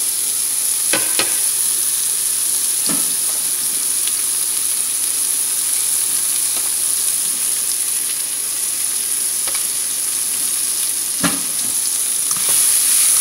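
Onions fry in hot oil for poha, a steady close sizzle running throughout with a few sharp scraping clicks of a spoon stirring the pan; no voices.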